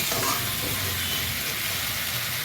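Bori and green tomato curry frying in a pan, a steady bright sizzle and hiss with soft bubbling underneath, close and continuous with no talking.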